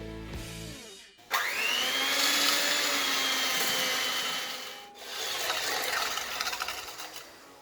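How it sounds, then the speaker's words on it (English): An electric whisk creams butter and sugar in a small bowl: a sharp click, then a close, steady high motor whir with rattling beaters, a brief pause, and the whirring again. "we're going to use an electric whisk and just cream this together until light and fluffy"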